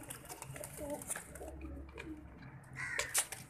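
Teddy pigeons in a loft coo with low, rolling, repeated calls. Soft rustling and background chatter sit around the cooing, which ends with a brighter flutter near the close.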